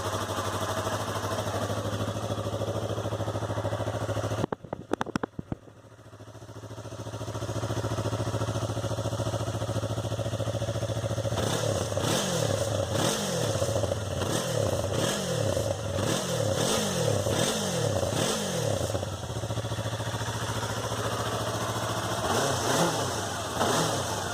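A Yamaha YZF R3 motorcycle idles, goes briefly quiet, then starts up and settles to a steady idle before a burst of repeated sharp throttle revs rising and falling, heard loud and close without talk.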